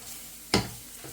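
Flour being stirred in a hot frying pan for gravy gives a low sizzling hiss, broken by one sharp scrape of the utensil and a fainter second stir.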